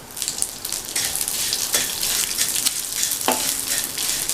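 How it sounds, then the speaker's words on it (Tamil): Vermicelli frying in ghee, a steady bright sizzle and crackle close up with occasional scraping stirs of the pan, no voices. "மீதி இருக்கிற அதே நெய்யிலேயே 1/4 கப் சேமியாவை சேர்த்து வறுத்துக்கலாம்."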